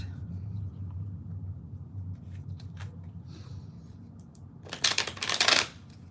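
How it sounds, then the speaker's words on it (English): Tarot cards are shuffled close by in a short riffling burst near the end, preceded by a low rumble and a few soft taps and rustles. "I'm just gonna wait and shuffle the cards."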